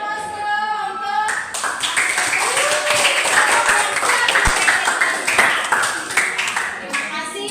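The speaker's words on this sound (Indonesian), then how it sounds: "Kita berikan aplaus dulu untuk" A classroom audience applauds a student group, dense sustained clapping from many hands that starts abruptly and carries on loudly to the end.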